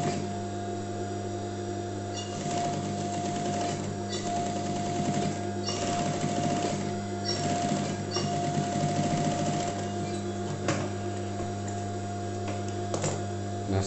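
A sewing machine stitches piping along the edge of a bobok-style welt pocket, running in a steady close whirring chatter over a constant low hum, pausing briefly between bursts, with no voices.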